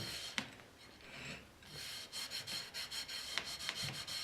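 Soft soap being rubbed hard onto a print laid on porcelain, a close dry scrubbing with repeated short strokes and a few sharper knocks, growing more rhythmic toward the end.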